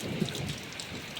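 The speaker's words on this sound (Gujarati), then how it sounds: "ખતરનાક વરસાદ આવી ગયો" Heavy rain pours in a dense, steady hiss across farmland, loud and close, with a low rumble beneath it.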